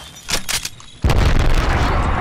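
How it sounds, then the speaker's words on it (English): A grenade goes off in the Apex Legends battle royale game: some brief clatter and tones, then a sudden loud, deep blast that rumbles on with heavy low roar and debris noise. "Look out, grenade!"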